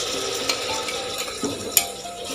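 Carrots and tomato being stirred in oil in a pan, soft scraping and clinks of a utensil over a quiet frying hiss, with a couple of sharper taps.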